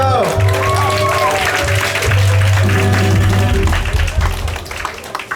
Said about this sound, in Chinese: 给自己掌声加加油！